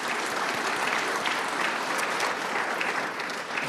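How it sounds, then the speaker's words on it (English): Steady round of applause from an audience at a community meeting, a dense, even wash of clapping that holds at the same loudness throughout without any talking. "So if we could please give them a round of applause as well."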